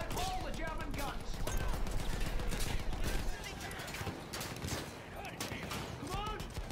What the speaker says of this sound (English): machine guns are holding our lads back.